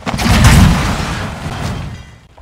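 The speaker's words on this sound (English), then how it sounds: "we have a rocket launcher, it's great" A rocket launcher fires in Fortnite Battle Royale, giving one loud, booming blast with a low rumble that slowly fades out over a couple of seconds.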